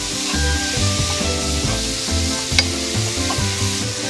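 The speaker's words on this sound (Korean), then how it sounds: "이 상태에서 골고루 쏘아주세요. 그리고 이 물기가 다 없어질 때까지 골고루 볶아주세요." Anchovies stir-fry with a seasoning sauce over medium-low heat, a loud, close sizzle with continuous scraping stirs and a brief louder spatter midway.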